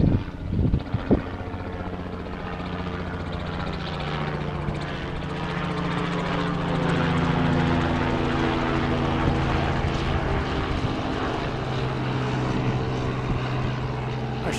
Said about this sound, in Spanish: helicóptero, este seguro que va al Club Santa Mónica, que van y vienen la gente en helicóptero